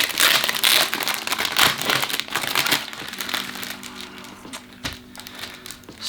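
Close, loud crinkling and rustling of plastic wrapping torn open from around washable Japanese government-issued cloth masks, with irregular crackling bursts that ease off slightly toward the end.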